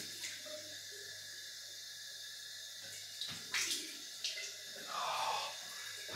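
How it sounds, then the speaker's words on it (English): Cold water runs from a tap in a sink during a shave rinse, a steady splashing stream with a few louder bursts as hands or a razor pass under it. "Cold water rinse."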